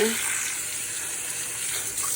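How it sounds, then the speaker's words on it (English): Cold tap water running steadily over farro being rinsed in a kitchen, a continuous close hiss of flowing water heard alone. "So give them a good rinse under some cold water."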